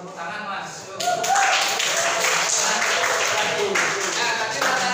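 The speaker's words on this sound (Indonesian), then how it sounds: "Nah, oke, betul. Tepuk tangan," A classroom erupts into steady clapping that starts a second in and keeps going as dense, close applause, with voices mixed in.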